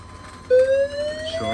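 A fire alarm sounds during a system test: after a quiet moment an electronic tone switches on abruptly, holds and climbs slightly, then breaks into a sweeping warble near the end.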